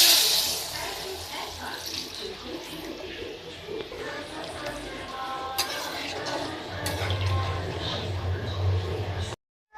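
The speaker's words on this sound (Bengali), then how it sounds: "এবার আমি এতে দিয়ে দেব পরিমাণ মতো জল।" Water is poured into a pan of fried green banana with turmeric, giving a soft splashing and trickling over faint background clatter, with a low sizzling bubble rising near the end.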